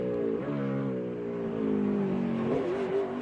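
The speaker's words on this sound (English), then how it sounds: "I love being able to hear the engine right there. You can hear the downshift, you can hear the wheel hop" A race car engine downshifts in NASCAR qualifying on a road course, revs dropping and blipping in stepped harmonic bursts close by, heard alone without talk.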